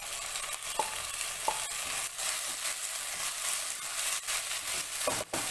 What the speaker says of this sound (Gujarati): એકવાર હલાવી લેવું જેથી બળે નહીં.